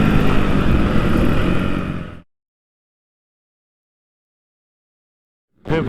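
Motocross bikes roar in a qualifying race at a veteran MX meeting, a loud dense engine drone that cuts off abruptly into silence, then returns suddenly near the end.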